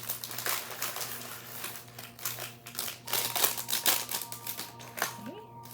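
Crinkly plastic bags of small building-block pieces rustle and tear open up close, busy crackling and rattling of small pieces, with someone speaking softly underneath.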